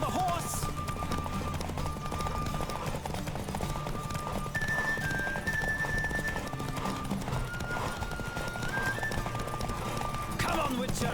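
Galloping horse hooves pound in a quick, steady rhythm throughout a race in the game The Witcher 3, with occasional neighing and background game sounds over the run.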